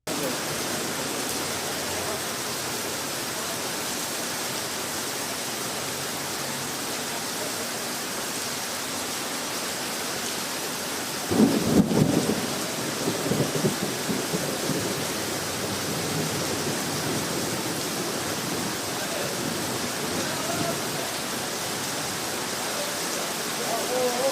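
Steady heavy rain hisses throughout a thunderstorm with lightning, with a brief low rumble and rush partway through like distant thunder, then the downpour continues unbroken.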